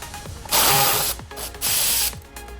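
Hand ratchet backing a 10mm bolt off the intake pipe of a BMW M4, two bursts of close, rapid clicking pawl strokes separated by brief pauses.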